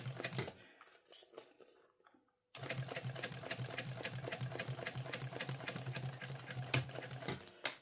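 A sewing machine stitches a seam on a bum bag, a few short uneven bursts, then a pause and a steady close rapid run of stitching lasting several seconds, with no talking.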